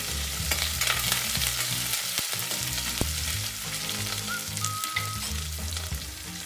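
Green chillies and curry leaves sizzle in hot frying oil for prawn fried rice, a steady close crackling hiss that runs the whole time with no voices.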